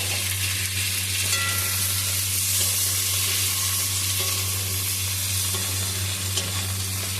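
Chopped tomatoes hitting a pan of frying bitter gourd and potato, giving a loud, continuous sizzle with a steady low hum underneath throughout, no voices.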